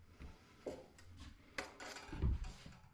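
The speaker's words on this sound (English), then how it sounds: "I'm just using the trowel as much as I can to clean those edges" A steel trowel scrapes and smooths drywall compound along an external ceiling angle, giving faint, irregular rubbing and scraping strokes with a few sharper clicks and a duller knock near the end.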